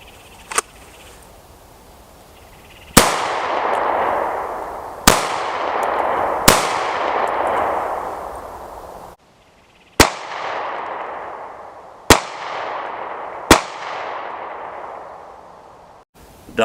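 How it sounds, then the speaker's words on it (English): Pistol fitted with a Cyelee Chameleon G-SRS8 red dot fired at a center target on a range: about seven loud, sharp shots at irregular intervals, each trailing a long ringing echo, with no talking. "I'm going to put 3 rounds into the center target to confirm my 0"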